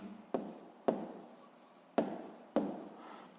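Chalk or marker strikes a classroom board in four sharp taps, each trailing into a short scratchy stroke, close and fairly quiet in an otherwise silent room.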